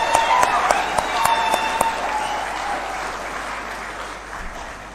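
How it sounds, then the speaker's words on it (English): Loud, sustained applause from a large audience at a Kenyan presidential address, the clapping close and dense for the full stretch before slowly thinning toward the end. "Let's clap for that."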